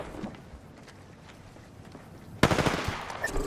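Sudden burst of rapid automatic gunfire in the video game Apex Legends, sharp and loud after a quiet stretch of faint ambient game sound.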